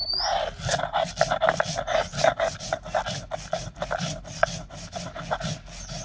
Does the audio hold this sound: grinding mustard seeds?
yes